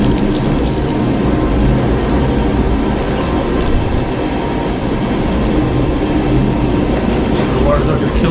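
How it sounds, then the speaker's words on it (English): Water gushes steadily from a pot of potatoes, a loud continuous splashing pour that fills the whole stretch, with outdoor rumble behind it. "Dump the water out."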